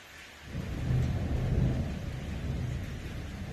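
Thunder rumbles through a night storm after midnight, a deep roll that builds within half a second and then sustains as a low, moderately loud growl with rain behind it.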